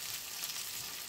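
A meat cutlet fries in a pan with a steady, close sizzle, a continuous crackling hiss that holds at an even level throughout and has no voices over it.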